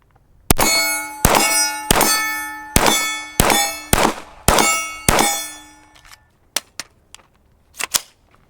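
A P226 Legion SAO pistol fires about eight evenly spaced shots, each ringing a steel target with a bright metallic clang that hangs briefly, followed by a few fainter scattered pings and knocks.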